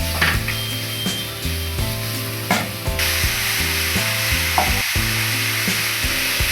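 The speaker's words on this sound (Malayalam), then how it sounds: "തയ്യാറാക്കി വെച്ചിരുന്ന തേങ്ങയുടെ കൂട്ട് ഒന്ന് ചേർത്ത് കൊടുക്കാം. നന്നായിട്ടൊന്ന് ഇളക്കി യോജിപ്പിക്കും." Coconut mixture frying with shallots in a pan for Kerala-style kappa thalichathu, stirred with a steady sizzle and repeated scraping strokes under a looping background tune, no voices.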